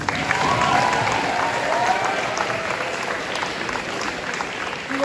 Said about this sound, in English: Please give a big round of applause to our winter athletes.